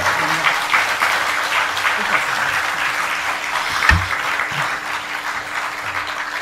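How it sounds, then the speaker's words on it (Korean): A church crowd claps steadily and continuously, welcoming a pastor to the stage, a dense wash of applause filling the room from start to finish with a few voices calling out beneath it. "우리 설동우 목사님, 강사님이 나오실 때 할렐루야로 우리 손들고 박수로 환영하겠습니다."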